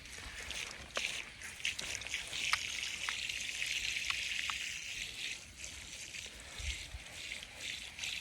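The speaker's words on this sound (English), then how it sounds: "we're just going to start watering this stuff in the best we can" A hose waters young onions and other garden plants with a steady, soft spray hiss and occasional small splashes and drips, fairly quiet throughout.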